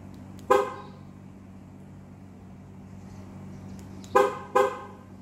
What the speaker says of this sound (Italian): Alla chiusura fa un solo beep,